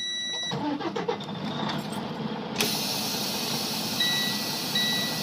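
A truck engine cranks briefly, catches and settles into a loud, steady idle, while faint beeps chirp near the end.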